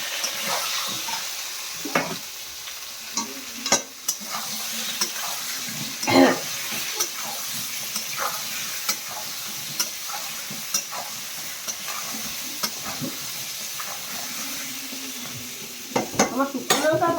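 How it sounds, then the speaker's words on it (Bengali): Spiced food with salt and turmeric sizzles in a pan while a utensil stirs and scrapes at it, making soft intermittent clinks over a steady frying hiss. "এই একটু নাড়বো।"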